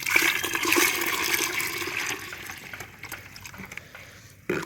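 Water is poured into a water lily pot during repotting, a steady splashing, gurgling pour that runs loud for about two seconds, then tapers off softly, with a brief splash near the end.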